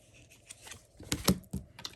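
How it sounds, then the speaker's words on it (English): Quick, crisp riffling clicks of tarot cards being shuffled, a short burst of papery snaps close by, fairly quiet. "I'm going to shuffle one more time"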